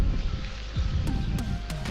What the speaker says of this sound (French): Là il y a un petit peu de vent,